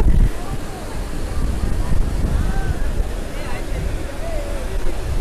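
Sea waves at Digha beach, a continuous rumbling wash of surf mixed with wind buffeting the microphone, with distant voices and faint calls.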